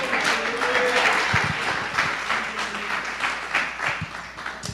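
Church congregation applauding during a service, a moderate, blended round of clapping from a mid-distance crowd with a few sharper claps, fairly soft overall, with faint voices underneath.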